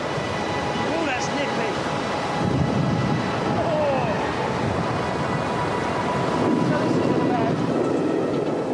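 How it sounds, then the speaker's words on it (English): Strong gale-force wind of about 40 km/h buffets the microphone at a Hong Kong airport base, a steady loud roar with rumbling gusts throughout while people talk over it. "the wind speeds already up to 40 kilometres an hour"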